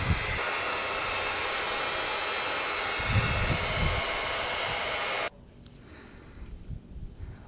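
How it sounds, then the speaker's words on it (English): A heat gun blows steadily on the cylinder area of a neglected Yamaha Warrior 350 engine, a loud, even airy whir with a fan hum that cuts off abruptly partway, leaving quiet handling sounds. "So I've got the heat gun here. Just try to heat up the whole cylinder area"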